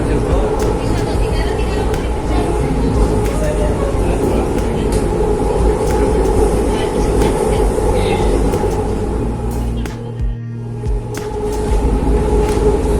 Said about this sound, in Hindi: मेट्रो ट्रेन में हम चढ़ चुके हैं